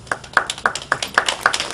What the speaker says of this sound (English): teachers, I give you guys a round of applause